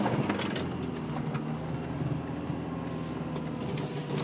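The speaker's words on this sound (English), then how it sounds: "we're gonna see how this RT4-wheel drive wagon does driving it through the bush" A Honda Civic RT4WD wagon in four-low crawls through the bush with a steady, low engine drone, while branches scrape and knock against the body at irregular moments.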